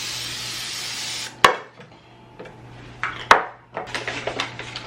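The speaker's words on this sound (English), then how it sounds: "Cake pans. I'm going to just spray them really good with the non-stick spray." Non-stick cooking spray hisses steadily onto cake pans for about a second, then the metal pans clank and clatter a few times as they are handled, close and fairly quiet.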